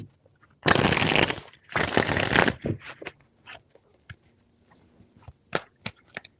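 A deck of tarot cards is shuffled in two loud riffling bursts, then tapped and squared with several short, crisp knocks, close to the microphone and with no talking.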